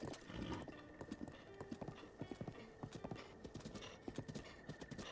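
A horse trots with steady, rhythmic hoof clip-clops in Zelda: Breath of the Wild, joined now and then by brief whinnies over an outdoor ambience.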